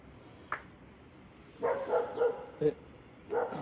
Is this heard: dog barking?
yes